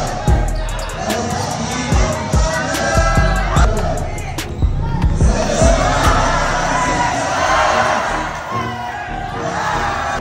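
A basketball game crowd roars and cheers loudly and continuously, with shouts and whoops over sharp ball bounces and sneaker squeaks on the court, the noise swelling and staying dense throughout.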